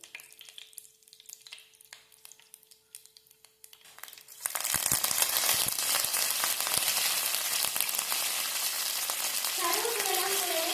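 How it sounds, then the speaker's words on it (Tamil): Mustard seeds hit hot oil for a potato gravy: faint kitchen clatter gives way to a sudden, loud, continuous sizzle with dense crackling and spluttering up close, and a voice briefly joins near the end. "கேர்ஃபுல்லாக போடுங்க, கடுகு தெரிக்கும் லைட்டாக."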